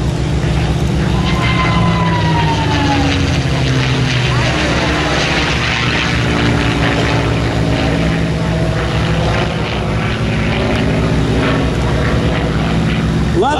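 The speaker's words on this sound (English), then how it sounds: "The sound of the Packard-built Merlin engine, designed in Great Britain, built in great numbers by the folks at Packard Motor Car Company here in America" A Packard-built Merlin engine powers a P-51 Mustang flyby at the Sun 'n Fun 2013 airshow, a loud, continuous propeller drone with a sweeping pitch that holds strong for the whole pass.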